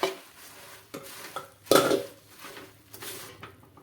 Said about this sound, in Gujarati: હવે આમાં આપણે મમરા નાખી દઈશું અને સારી રીતે એને મિક્સ કરી દેવાનું